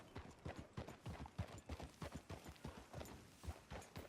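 Horse hooves clip-clopping in Red Dead Redemption 2, a steady rhythmic trot of close, distinct hoofbeats on hard ground, alone without talk.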